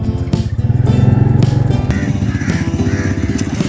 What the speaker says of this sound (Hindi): तो जी गुजारते हैं यहाँ से मोटरसाइकिल,